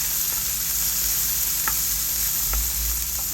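A spice paste sizzles in oil left over from frying potatoes, a constant close hiss with a couple of faint clinks of a stirring spoon and no voices.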